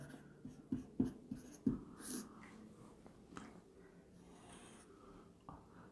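Marker or chalk strokes on a board during a physics lecture on Stokes' theorem, a few short scratchy taps and squeaks close by in the first two seconds, then faint room hiss.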